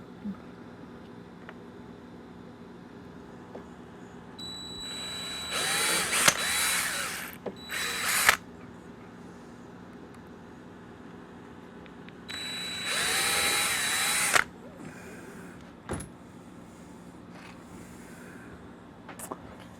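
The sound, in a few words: drilling holes in RC plane gear door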